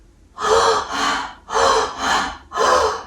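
A voice imitates someone with asthma gasping for air: five loud, close, drawn-out breathy inhalations in a steady rhythm with brief pauses between them.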